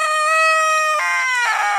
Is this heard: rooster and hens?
yes